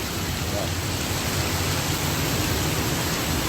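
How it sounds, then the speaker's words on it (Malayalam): Heavy rain pours down steadily onto a national highway, a dense, loud, unbroken roar of water close by with no let-up. "എന്താ മഴ"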